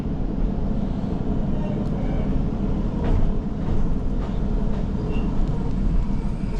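Passenger train running on the line to Manchester, heard from inside the carriage as a steady low rumble and rattle with faint clanks, no talking.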